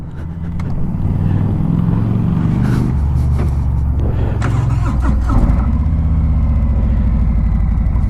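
A 2017 Harley-Davidson Street Glide Special with a Milwaukee-Eight 107 cubic-inch V-twin rumbles loud and close, rising after a brief start to a steady, deep, pulsing idle with a few throttle blips in the middle.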